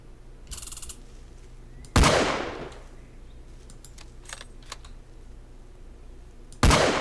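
In the video game Squirrel Stapler, two sharp, loud gunshots ring out several seconds apart, each with a quick decaying tail, over a quiet background with faint clicks and a short rattling burst early on.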